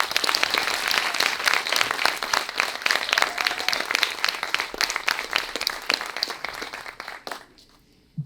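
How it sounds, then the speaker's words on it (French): Lively audience clapping at a school public-speaking contest, dense and energetic with distinct individual hand claps, continuing for about seven seconds before stopping abruptly. "Je vous demande d'applaudir Délixia Perrine."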